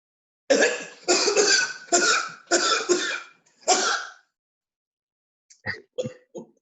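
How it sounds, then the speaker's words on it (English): A close fit of five harsh, evenly spaced coughs, followed after a pause by a few softer, shorter throat-clearing coughs. "Coughing?"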